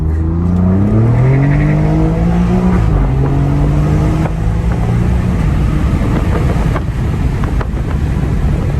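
Alfa Romeo Giulia Quadrifoglio 2.9L engine with a Madness tune accelerates hard, its revs climbing through rising tones before holding steady against the rev limiter, then droning on amid strong wind and road noise.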